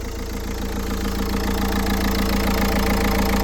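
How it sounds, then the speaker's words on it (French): A Renault Megane 3 dCi diesel engine idles cold, with an even, slightly knocking rumble throughout, heard close and steady with no voices. "Déjà là le moteur il cale plus."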